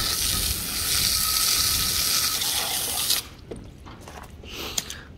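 Weak-pressure tap water running onto an outboard motor during cleaning: a steady, close hiss of flowing water for about three seconds, then it stops, leaving scattered drips and small knocks.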